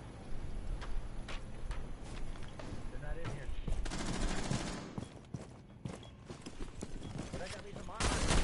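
Gunfire from enemies in Rainbow Six Siege, shots punched through walls: dense bursts of rapid cracks and thuds, loud and close at moments, crowding over game noise while people talk.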